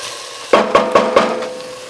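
Browning onions for red chile pork sizzle steadily in a pan while a utensil scrapes through them in four quick, evenly spaced strokes, close and fairly loud.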